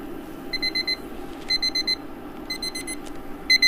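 A kitchen timer set for three minutes beeps in repeated quick bursts of high electronic tones, four or five pulses per group, with short gaps between groups, fairly loud over a faint steady background hum.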